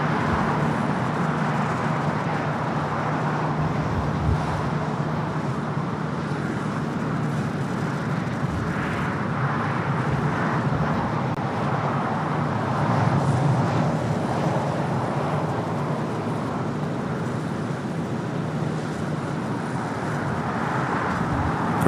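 Emirates Airbus A380 from Dubai arriving at Los Angeles International Airport on the south side, a steady broad jet roar with a low rumble that holds throughout, loud and continuous with no talking.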